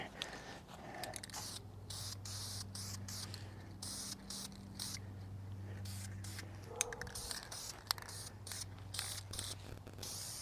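A spray can hisses in repeated short bursts as a Corvette part is painted inside a makeshift paint booth, the puffs separated by brief pauses over a low steady hum.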